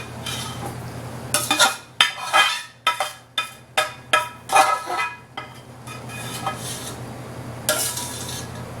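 Spoon scraping and clinking against a baking dish as mac and cheese is ladled in, a series of sharp metallic knocks and wet scoops in irregular rhythm, close by with no talk.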